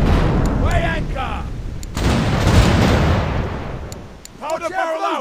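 Ship cannons boom in a pirate naval battle in The Pirate: Caribbean Hunt video game, several heavy blasts rumbling across the fight with game music and effects, loudest near the middle and fading toward the end.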